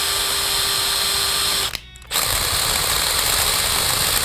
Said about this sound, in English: once it's attached to a regular power drill, it becomes a high-torque cutting tool